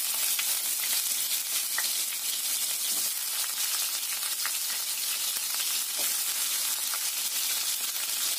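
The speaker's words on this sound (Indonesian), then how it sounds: "Setelah panas, kita goreng dulu kentangnya." Steady, loud sizzling of potatoes frying in hot oil in a wok, a continuous crackling hiss with occasional pops, close up and without talk.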